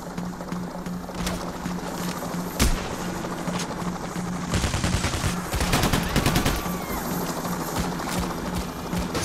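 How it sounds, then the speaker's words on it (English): Gunfire bursts and rapid machine-gun fire crackle over a steady helicopter rotor drone during a bank-heist shootout in the video game Payday The Heist, with loud dense volleys clustered mid-clip. "Choppers!"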